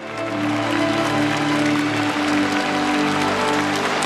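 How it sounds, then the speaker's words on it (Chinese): Warm, steady applause fills the concert hall of the National Centre for the Performing Arts in Beijing as Xi Jinping and Putin enter for a China–Russia anniversary concert, a loud continuous wash of clapping with a sustained tonal hum beneath. "习近平和普京在热烈的掌声中一同步入会场。"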